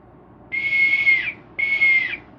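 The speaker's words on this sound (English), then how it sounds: "I bought a steampunk whistle." Two long, shrill blasts from a steampunk whistle, each about three quarters of a second, with a short gap between them and a falling tail at the end.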